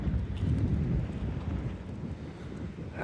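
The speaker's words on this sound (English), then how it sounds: "It's a little bit windy here" Steady wind buffets the microphone on Mablethorpe Central Beach in Lincolnshire, a low continuous roar that swells slightly at the start and holds strong throughout, with no voices.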